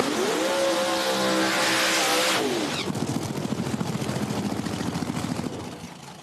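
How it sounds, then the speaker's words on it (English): A drag racing car at a raceway runs rough after its burnout, with a loud engine drone that shifts pitch and then becomes a rapid, uneven, pulsing idle that fades slightly at the end. "Bill Lutz's car does not sound good there after the burnout"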